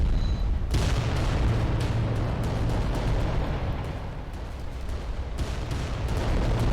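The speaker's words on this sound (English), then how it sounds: "Yeah, he's shooting into the combat." Heavy titan weapons fire in the Adeptus Titanicus: Dominus video game, with a continuous thundering rumble and a dense roar of booming blasts that swells, dips slightly, then surges again.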